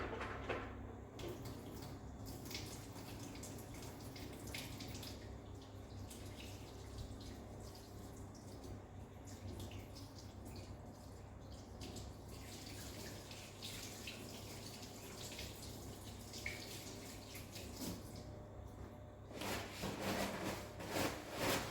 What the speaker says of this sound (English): You're now going to wash your hands.